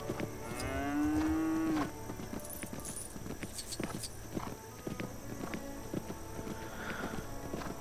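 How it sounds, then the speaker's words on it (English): A cow moos once in the Lego Jurassic World video game, followed by scattered hoof clip-clops and small game effects, with faint talk in the background. "I see, we ride the cow."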